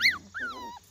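Young puppies of a litter whine and yip in quick high-pitched bursts, close by and fairly loud, with a brief quieter pause between cries.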